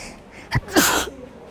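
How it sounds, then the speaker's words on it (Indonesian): A single sharp human sneeze, close and fairly loud, a brief burst followed by a longer breathy release, with no talk over it. "Aduh, bersin."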